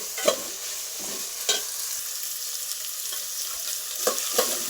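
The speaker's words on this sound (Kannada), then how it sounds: "ಈ ಥರ ಸಣ್ಣದಾಗಿ ಕಟ್ ಮಾಡಿರೋ ಕ್ಯಾರೆಟು. ಫ್ರೈ ಮಾಡಿ." Finely chopped carrots frying in a pan, a continuous close sizzle punctuated by a few distinct stirring clacks and scrapes, with no voices.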